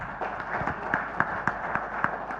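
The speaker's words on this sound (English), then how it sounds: "So they need a big round of applause" Audience applause at a corporate event with Tata Sons, a steady wash of clapping with sharper individual claps standing out, moderately loud and without speech.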